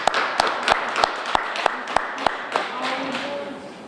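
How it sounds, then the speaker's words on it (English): A small audience at a live radio podcast session claps in a sparse, irregular rhythm of sharp individual hits that thin out and fade within a few seconds. "Give them a round of applause, please,"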